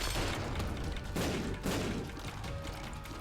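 Rapid bursts of explosions from The Binding of Isaac: Afterbirth game play, dense and continuous booming with two stronger blasts near the middle, loud and close throughout.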